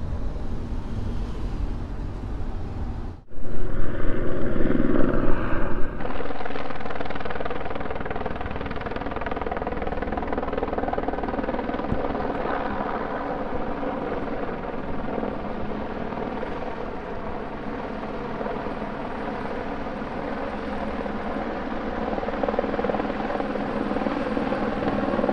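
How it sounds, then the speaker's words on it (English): A helicopter's steady rotor drone with dense, continuous engine noise, heard from a road near Stewart, BC, loud throughout, briefly swelling louder a few seconds in before settling into a sustained roar. "Awesome seeing that helicopter."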